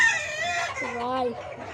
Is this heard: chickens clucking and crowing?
yes